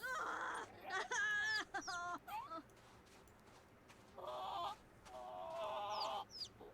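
Chickens cluck in bursts inside the Sims 4 life-simulation game, with short harmonic calls arriving in several clusters over a steady background hum.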